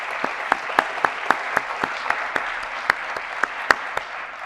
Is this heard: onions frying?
no